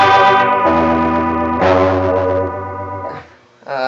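A bass guitar runs through a Fender M-80 bass amp with the modulation effect's rate and depth turned fully up, producing a loud, swirling, wavering sustained tone that shifts in pitch across several notes.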